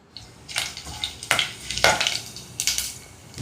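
Cumin seeds hit hot ghee and oil for a tempering with cardamom, cloves and bay leaves, sizzling in loud, crackling bursts that flare and fade repeatedly.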